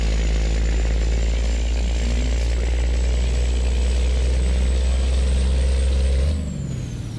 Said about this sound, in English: M11 exhaust sound really goes well with the record.